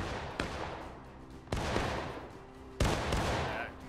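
Three musket shots fired in War of Rights, each a sharp loud crack followed by a long rolling echo, spaced about a second apart.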